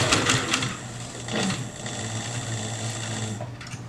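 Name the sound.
sewing machine stitching leather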